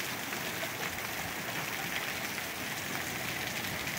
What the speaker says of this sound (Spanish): No, cuando llueve, llueve.